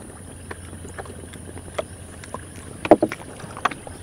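A boat moving along the main river of an Amazon lake region, a steady low engine drone with scattered splashes and knocks, moderately close and heard alone without talk.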